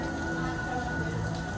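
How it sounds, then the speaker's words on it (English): Steady rain pours down during a Florida rainstorm at Universal Orlando, a continuous broadband wash of drops on surfaces with no clear breaks, fairly loud and close throughout. "A nice little Florida rainstorm here."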